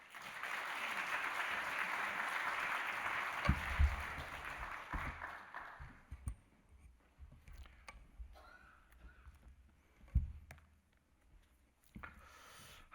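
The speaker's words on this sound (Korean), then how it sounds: "큰 박수로 환영하겠습니다." A church congregation at an autumn revival evening service gives applause welcoming a pastor, a moderate wash of clapping that fades out after several seconds, followed by quiet room noise and a few bumps.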